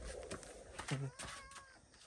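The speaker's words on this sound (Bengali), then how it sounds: "এই বিড়ালটা কোথা থেকে এসছে" A cat meows close by, with one short, clear, rising cry at a farm field where chilies are being picked. Someone talks around it.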